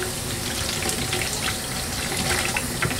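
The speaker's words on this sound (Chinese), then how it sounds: "先把豆腐清洗一下。" Tap water runs steadily into a kitchen sink as tofu is rinsed under it, a continuous close splashing rush with no voices.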